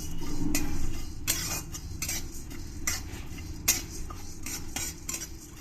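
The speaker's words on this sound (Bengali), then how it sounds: "যখন ভালো করে চটর পটর করে উঠবে তখন বুঝতে হবে এটা ভাজা হয়ে গেছে" Cumin and coriander seeds dry-roast in a kadai with no oil, giving a steady scatter of small crackles and pops along with the scrape of stirring, close and fairly quiet, with no voices.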